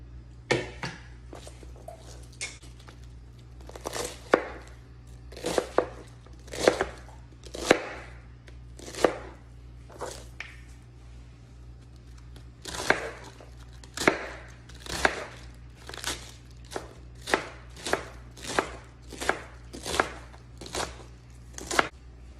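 A knife chopping lettuce on a board, about thirty sharp close chops in irregular bursts, some quick runs and some spaced out, over a low steady background hum.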